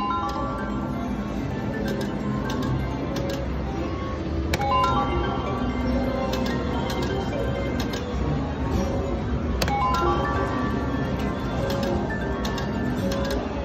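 Wheel of Fortune slot machine spinning on a casino floor, its bright chiming melody and ticking tones running steadily and fairly loud over a busy background, with fresh bursts of chimes partway through.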